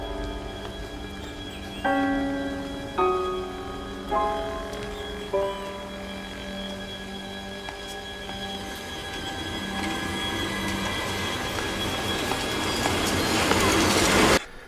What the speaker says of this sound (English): 1950s tram, original Buenos Aires tram, correct sound and correct picture behind Jonathan Hansler there.